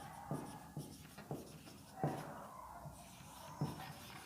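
Chalk or marker writing an example on a board in a classroom: a series of soft, irregular scratchy strokes and taps, faint and close, with short pauses between strokes.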